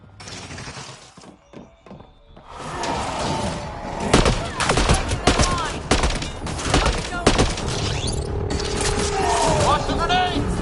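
Chaotic Mass Effect: Andromeda firefight with grenade blasts and bursts of gunfire, sharp cracks and thuds piling up after a quieter opening with brief voices, then sustained loud combat noise with chirping weapon effects near the end.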